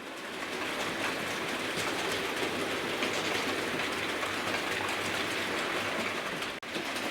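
Hornby TTS model locomotives built for digital control running on analogue track, giving a continuous even whirring rumble of motors and wheels, close and unbroken except for a brief dropout near the end, with no speech.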